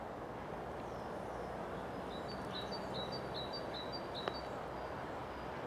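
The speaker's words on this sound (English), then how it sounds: "plenty of bird song this time of year. Great tit, I think that is." Great tit song outdoors along a countryside walking path: a faint, repeated series of thin high notes drifting in from a distance over steady wind-like background noise.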